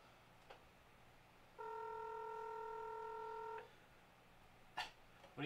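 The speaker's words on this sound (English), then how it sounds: "It's ringing. It's ringing." A telephone ringback tone on an outgoing call to a brewery, one steady electronic ring burst lasting about two seconds, faint and clean, followed by a short silence and soft clicks.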